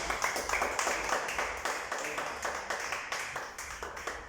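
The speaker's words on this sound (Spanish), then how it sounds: "denle un fuerte aplauso a nuestro Dios" A church congregation applauds in praise after a Bible study sermon, with steady, dense clapping from many hands that holds at an even, moderate level throughout, with no voices.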